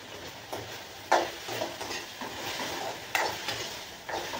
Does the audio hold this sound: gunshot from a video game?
no